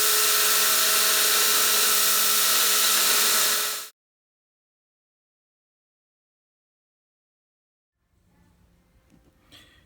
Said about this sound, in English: This is an Ameribraid grinder